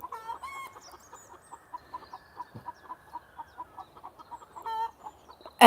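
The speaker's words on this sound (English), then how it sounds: "There's little Pingu, Stumpy, keeping guard of the hens." Hens cluck in a steady, rhythmic series of short calls, close and clear, with a few louder squawks near the start and end in an otherwise quiet farmyard.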